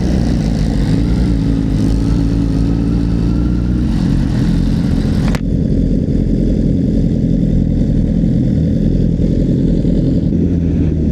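A Honda CBR1000RR sport motorcycle engine idles loudly nearby with a steady, throbbing rumble and a brief blip partway through.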